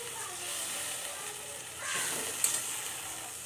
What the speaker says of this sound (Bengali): এবার গরম জল দেব, পাঁচ মিনিট ফুটবে